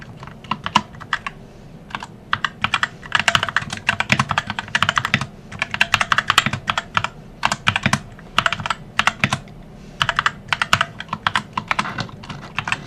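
Rapid bursts of keystrokes on a computer keyboard, close and crisp, as a ChatGPT prompt is typed in uneven clusters with short pauses between words.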